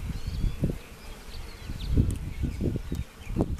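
Honey bees buzz steadily around an opened hive holding brood, honey and pollen after a nuc move, a close and continuous hum with low rustling bumps and handling noises scattered throughout.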